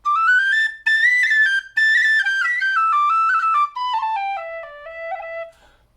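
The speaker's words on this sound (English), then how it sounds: "just a nice whistle to play" A soprano D tin whistle plays a bright, clear melodic run, starting high and stepping downward through quick notes with short breaks between phrases.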